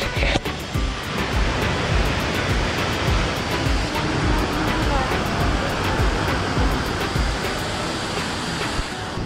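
Water released through the gates of the Dadupur barrage on the Yamuna roars in a loud, continuous rushing torrent, steady broadband churning with no pauses, close and dominant throughout.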